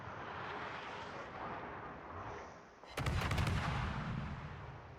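Naval guns of the destroyer Cossack open fire in a Jutland naval battle game, a sudden loud burst of rapid repeated blasts cutting in after steady low battle rumble and continuing as a dense roar.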